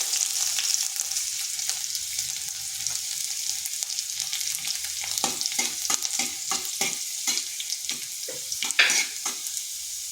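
Thinly sliced garlic frying in oil with whole cumin and dried red chillies, a steady close sizzle with a run of sharp crackles and spatula scrapes in the latter half.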